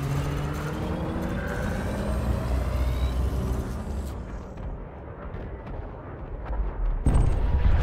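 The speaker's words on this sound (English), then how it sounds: "Kaboom. Target destroyed." A spaceship blown apart in combat in Elite Dangerous, a heavy rumbling blast and roar that swells, thins out, then ends with a sharp final burst, loud and without talk.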